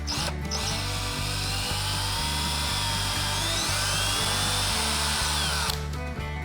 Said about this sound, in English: We're gonna start by drilling a pilot hole smaller than the hole I